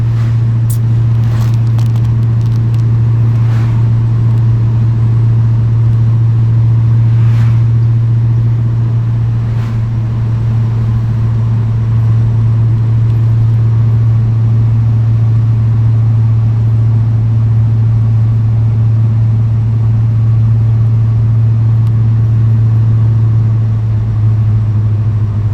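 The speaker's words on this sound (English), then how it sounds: "Car's got a real nice tone to it too." A 1955 Chevy Bel Air engine drones steadily while driving, a loud, constant low hum with road noise and no voices, holding an even tone throughout.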